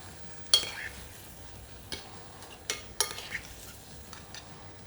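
Rice being stirred in a pan after deglazing with shrimp stock for a Korean-style shrimp congee, with soft scraping and a light sizzle punctuated by a few sharp utensil clicks against the pan.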